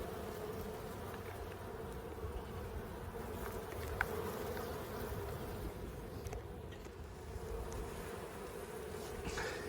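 A dense, continuous buzz of many honey bees humming close by in a bee yard, steady and unbroken throughout.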